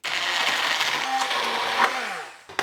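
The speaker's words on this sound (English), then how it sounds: "with the hand blender I'm going to be blending everything together" A hand blender whirs through aubergine pesto, a loud, steady motor buzz with shifting pitch as the blades churn the mixture, then it cuts out briefly near the end before a final short burst.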